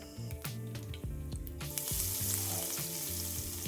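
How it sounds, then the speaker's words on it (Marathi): Cumin, mustard seeds, curry leaves and crushed garlic sizzle and fry in hot oil, loud and close, with a few sharp pops and spatters early on before settling into a dense, steady hiss. "थोडंसं तेल गरम झालं की त्यामध्ये जिरे, थोडीशी मोहरी, कढीपत्ता, ठेचलेलं लसूण आणि कोथिंबीर."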